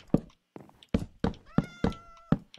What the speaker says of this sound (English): I have a cat. What is a cat doing here?